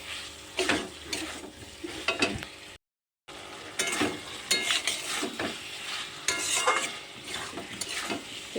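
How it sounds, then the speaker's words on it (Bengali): Fried potatoes are stir-fried into a saiting fish curry in a pan, with steady sizzling and repeated spatula scrapes up close. A brief silent break comes partway through. "দিয়ে আর একটু নেড়ে চেড়ে কষিয়ে নেব"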